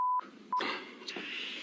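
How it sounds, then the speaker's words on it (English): Telephone keypad DTMF tones played from a phone: a steady tone, a short pause, a brief blip, then a longer dense run of dialing tones with a shift partway through, loud and close with no voices. "Phone, and I can play any tone from it, like this."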